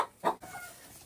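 A Marans rooster in a henhouse during severe frost gives a short, low cluck, close by, followed by faint background hiss.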